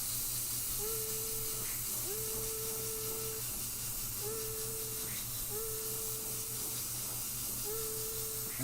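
An airbrush sprays white paint onto a black shirt in a steady, close hiss that runs throughout, with brief faint tonal whines recurring in the background.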